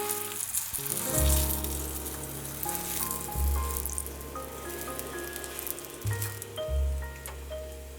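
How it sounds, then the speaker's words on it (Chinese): Scallion pancakes fry in hot oil in a pan, a soft continuous sizzle under gentle background music with low rhythmic thumps. "锅烧热之后倒油，把葱油饼放进来"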